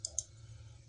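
Two quick, sharp computer mouse clicks close together, close-miked over a low steady hum, with no talking.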